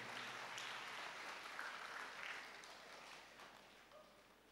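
Audience clapping at a church thanksgiving service honouring a priest, a steady broadband patter of many hands that holds for several seconds and slowly fades.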